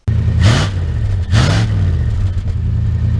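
Two quick throttle blips rise from the heavy, lumpy idle of a 1964 Dodge Custom 880 V8, the exhaust roaring briefly each time before dropping back to a loud, steady rumble.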